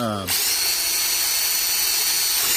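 A power drill bores steadily through a brass plug, giving a loud, continuous high-pitched whine close by. A brief voice comes just before the drill starts.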